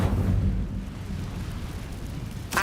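An Incendio fire spell cast in Hogwarts Legacy, a loud whooshing, rumbling burst that roars steadily and ends in a sharp crackle.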